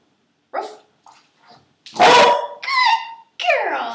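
A female dog barks on command to speak, a few sharp close barks following softer whimpers and yips, with a person's voice giving commands in between.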